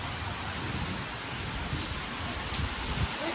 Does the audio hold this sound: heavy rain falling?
yes